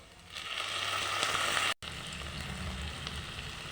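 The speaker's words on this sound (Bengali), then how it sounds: "সয়া সস দিয়ে দিচ্ছি।" Chili chicken sizzles and fries in a pan as soy sauce goes in, a close, steady hiss that briefly cuts out, then resumes with a lower bubbling crackle.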